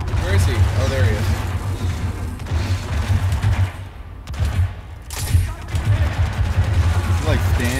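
Rapid bursts of gunfire from the video game Hitman Absolution crackle loudly and almost continuously, briefly thinning midway before resuming, with voices present.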